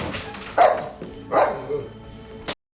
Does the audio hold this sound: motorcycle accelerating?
no